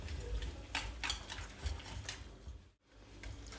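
Egg bread ingredients being stirred in a bowl, with a run of irregular scraping and clinking strokes up close, a brief pause near the end, then the stirring resumes.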